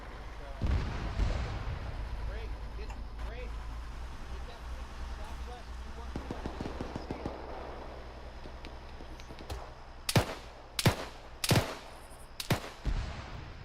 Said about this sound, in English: Please stop shooting right past us.